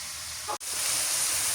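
Onion and garlic paste hits hot oil, and a sudden loud hiss and sizzle sets in right after a brief drop to quiet, then holds steady and bright.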